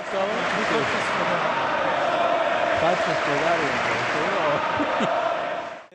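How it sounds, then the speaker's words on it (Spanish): Seminarians, priests and bishops in St. Peter's Basilica give the Pope prolonged applause with cheering and unison chanting, a dense, loud crowd roar sustained throughout before fading at the very end. "un aplauso cerrado de varios minutos"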